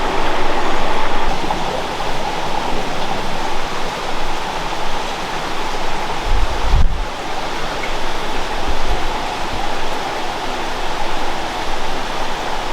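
Steady, close rush of flowing creek water in remote Australian bush, a continuous broadband wash with no pauses and a brief low thump partway through.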